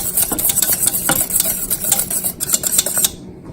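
Lemon meringue pie filling boils and thickens in a pot while a utensil stirs it, giving steady close scraping and clinking against the pan with bubbling underneath, ending abruptly in silence near the end.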